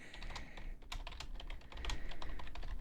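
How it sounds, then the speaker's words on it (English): Close, steady typing on a computer keyboard in a podcast studio, rapid irregular key clicks running throughout with a low background hum and no talking. "That's me typing."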